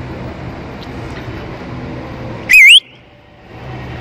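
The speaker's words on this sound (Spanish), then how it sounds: "Así es como yo les chiflo y luego responden" A person gives one loud, sharp rising-and-falling whistle to call children at an outdoor Halloween festival, brief and piercing over low background crowd noise.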